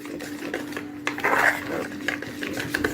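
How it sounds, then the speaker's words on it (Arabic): A spoon scrapes and clinks steadily in a bowl as chocolate cake batter for a gâteau au chocolat is stirred hard to dissolve the flour, with a faint steady hum underneath and no talking. "هبتدي بقى كده اقلب جامد لغايه ما الدقيق بتاعي يدوب"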